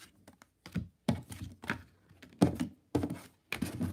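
Knuckles rap on a deck of tarot cards in a series of sharp, close knocks, irregular in rhythm and separated by brief quiet gaps.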